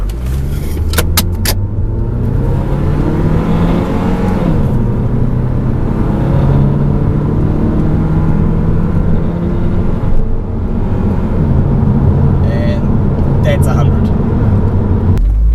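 A 2014 Subaru Legacy 2.5i sedan with SI-Drive pulls away from a standing launch, its engine droning loud inside the cabin as the pitch climbs steadily and shifts through the gears.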